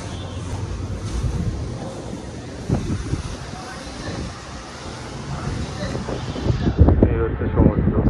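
Sea waves and wind at Mandarmani beach make a broad, continuous roar. Heavy wind buffets the microphone, and swelling surges of surf come and go.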